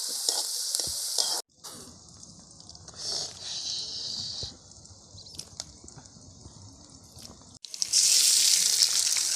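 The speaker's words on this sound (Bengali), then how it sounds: "এখন এটাকে একটু সময় নিয়ে ভাজতে হবে।" Ingredients frying in a pan for homemade pasta, a bright hissing sizzle that swells and dips with stirring, briefly cutting out before returning louder at the end.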